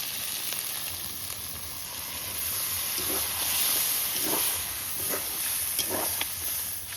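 Potatoes and boiled peas frying with spices in hot oil for ghugni give off a steady, moderate sizzle, broken by a few soft clinks and stirring noises.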